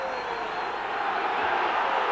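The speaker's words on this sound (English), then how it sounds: "The big crowd and the atmosphere is enormous" A big stadium crowd at a Headingley rugby league cup semi-final between Wigan and Castleford, a steady broad roar of massed voices filling the ground without letup.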